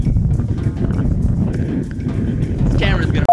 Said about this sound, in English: I'm f***ing in a wind tunnel all of a sudden. I don't remember it being this windy.